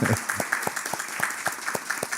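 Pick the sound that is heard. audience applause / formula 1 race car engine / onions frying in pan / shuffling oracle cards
audience applause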